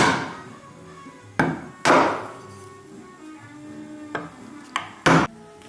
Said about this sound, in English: we'll clean this up with some sharp pinch chisels